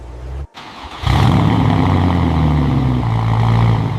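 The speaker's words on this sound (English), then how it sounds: "both V8 engines roared to life." Twin V8 engines fire up in a garage after a brief silent gap, then hold a loud, steady, rumbling idle with a deep exhaust note.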